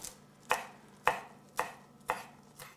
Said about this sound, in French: Je viens le hacher finement, encore là, pour ne pas avoir des grosses, énormes bouchées de kale en bouche.